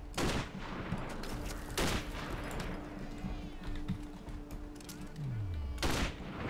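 Gunfire in the Sniper: Ghost Warrior video game: a few loud, sharp shots cut through a continuous rattle of distant automatic fire and low rumbling, with a falling mechanical tone near the end.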